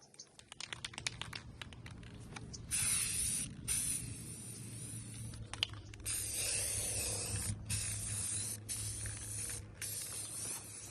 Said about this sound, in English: let me see how far I can get with one can of spray paint